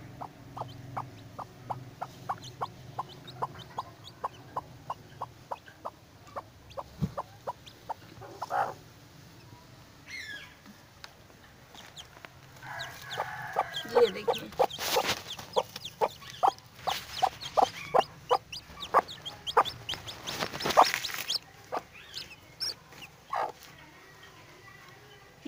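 A broody hen with newly hatched chicks, including a feathered-footed Cochin chick, clucks in a steady repeated series. Sharper squawks and chick peeps join midway, with a short burst of louder flapping and scuffling before the clucking resumes.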